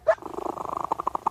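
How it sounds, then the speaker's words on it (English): A contented cat purring close up, a rapid, rhythmic rumbling pulse that follows a short higher-pitched sound at the start, with no talk over it. "That's a happy cat."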